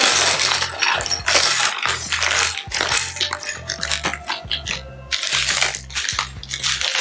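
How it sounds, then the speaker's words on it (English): Plastic bags of Lego pieces for a Razor Crest set being torn open and handled up close, a steady crinkling and crunching rustle with the loose bricks shifting and clattering inside, continuous for several seconds with no talking. "First, let's open both bags and zip them."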